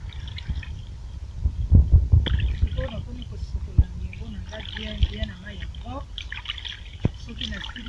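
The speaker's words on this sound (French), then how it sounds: "Maman Chanel est en train de laver la recette, la chauve-souris, le ngembo." Bat meat is washed by hand in water, with splashes and drips under a voice speaking French, the sloshing sporadic and close.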